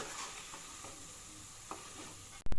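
Boondi for motichoor laddu fries in hot oil with a steady, close sizzle and faint stirring taps, then a sudden louder clatter right at the end.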